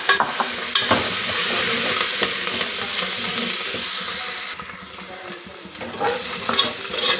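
Herbs and spices, including turmeric, coriander, mint and fenugreek leaves, frying in a pan for mutton curry, giving a steady close sizzle with scraping stirs. The hiss drops slightly partway through.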